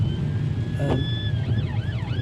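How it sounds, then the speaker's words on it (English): A police car siren wails nearby on a street, its rising and falling electronic tone sweeping up and down loudly over traffic rumble, with no one speaking. "There's a police car coming down here now."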